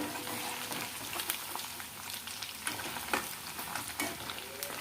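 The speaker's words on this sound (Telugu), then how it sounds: "మటన్ అయితే వేపుకుందామండి" Mutton frying in a pan for a preserved pickle, a loud continuous sizzle with bubbling and occasional stirring scrapes throughout, no talking.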